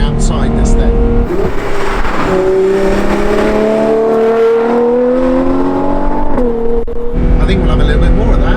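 Ferrari 812 Competizione V12 revs hard from inside the cabin, pitch climbing steadily through a long pull before a shift, loud and close with road roar underneath.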